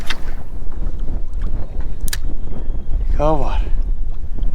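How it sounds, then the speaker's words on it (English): Strong outdoor wind buffets the microphone at a fishing spot, a loud continuous rushing roar, with a brief spoken remark in the middle. "I'm sure you guys can see and probably hear the wind whipping."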